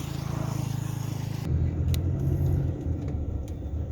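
A car drives out of Kok village, its engine and tyres giving a steady close rumble that shifts in tone partway through as the road surface or speed changes, with no talking.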